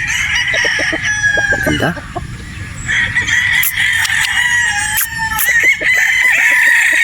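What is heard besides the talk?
gamefowl rooster crowing at game farm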